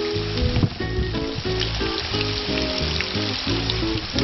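Big pink snapper frying in a pan, a loud, steady sizzle and crackle up close with bursts of spitting oil, continuous from start to end.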